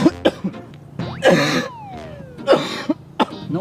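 A person coughs repeatedly at close range, with sharp single coughs and a harsher, drawn-out fit in the middle, the coughs spaced irregularly over a few seconds.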